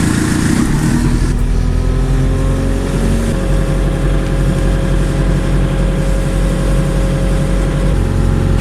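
An RX tractor engine, already running, is revved above 1300 RPM. Its loud, continuous drone climbs in pitch over the first few seconds and then holds steady, with no voices.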